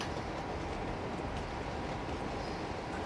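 A very long train in the video game Uncharted 2 gives a dense, steady rumble of rolling rail noise, continuous and fairly loud throughout, with no talking.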